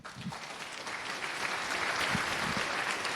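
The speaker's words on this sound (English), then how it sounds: "give her a round of applause, please." A conference audience at FOSDEM claps for a speaker, a soft, dense patter of many hands building slightly and holding steady, heard from somewhat far back in a lecture room.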